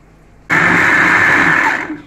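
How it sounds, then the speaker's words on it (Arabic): A blender blending vegetables switches on abruptly after a short quiet, whirring loudly and steadily for over a second before slowing down. "انا هضربها في الخلاط وهرجع لكم تاني"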